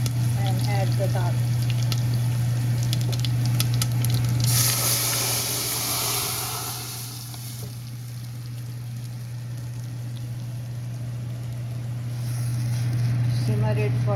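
Dal poured into a hot tempering of curry leaves, cilantro and hing for Gujarati dal, a loud hiss and sizzle that erupts and then settles into softer bubbling. A steady hum runs underneath and a voice speaks briefly.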